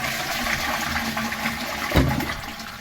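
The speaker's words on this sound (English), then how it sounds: "as soon as you flush the toilet, it doesn't fill up straight away." A toilet is flushed and a delay-fill brass-shank bottom-entry cistern inlet valve sits quietly as water rushes and drains in a steady wash, with a brief louder gurgle near the end.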